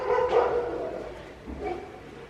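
Dogs chasing children bark and yip in the distance, a few muffled, uneven barks over a rough outdoor background.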